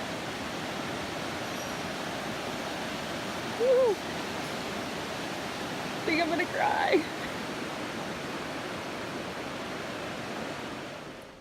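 The Colorado River rushes at the bottom of the Grand Canyon near Bright Angel Campground, a loud constant roar of water throughout, with a person briefly speaking over it.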